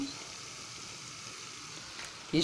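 Bolinhos de chuva frying in hot oil, a steady soft crackling sizzle throughout, close but fairly quiet, with a brief sharper sound at the very end.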